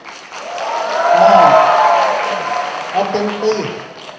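An audience claps steadily, swelling then fading, with a voice speaking over the applause near the end.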